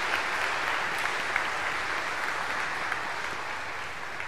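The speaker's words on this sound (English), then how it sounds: "How about a round of applause for our catechists?" Congregation at a Holy Family church Mass applauding the catechists, a steady broad wash of clapping that fills the room evenly, fairly soft and distant, tapering slightly toward the end.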